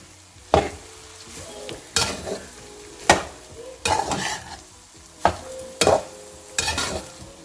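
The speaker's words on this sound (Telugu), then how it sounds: "మొత్తం కలిసేలాగా అన్నం కొంచెం వేడి అయ్యేలాగా మిక్స్ చేసుకుంటా హీట్ మీద ఉంచండి." Coconut rice is stirred in a pan over heat, the spoon giving sharp scraping knocks about once a second over a low steady sizzle, close by and without any voices.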